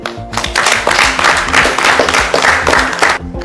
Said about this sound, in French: Je souhaite que vous puissiez applaudir pour vous-même.